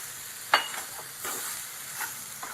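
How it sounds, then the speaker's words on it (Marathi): Pineapple pieces with sugar sautéing in a pan over a low flame for a pineapple sheera, soft hissing sizzle with a few sharp stirring scrapes and splutters, close and unaccompanied by talk. "आणि अजून जवळजवळ 4-5 मिनिटं मी लो गॅसवरती परतून घेणार आहे।"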